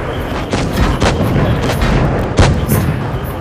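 Tank cannons boom repeatedly during a competitive World of Tanks Blitz match, several heavy, close shots spaced irregularly over a rumbling battle background.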